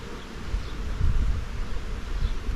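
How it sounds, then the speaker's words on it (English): Honey bees humming steadily from a hive box of honey supers in an apiary, a low continuous drone that swells slightly midway, with no voices. "I don't even see any bees up here in this box."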